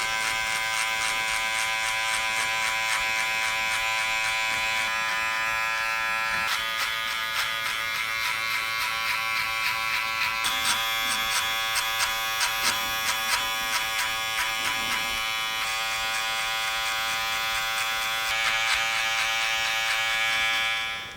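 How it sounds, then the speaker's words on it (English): Gamma Rebel hair clippers run continuously while fading thick hair, a steady close electric buzz with slight changes in tone as the blades move through the hair, alone without talk. "I'm gonna go in with my Gamma Rebel and open up the lever"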